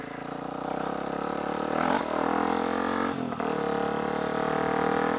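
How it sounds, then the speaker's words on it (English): A supermoto dirt bike rides past nearby, its engine revving with rising and falling pitch through quick gear changes, moderately loud and steady over the short stretch. "Kid's like, whoa, dude's on a crazy dirt bike."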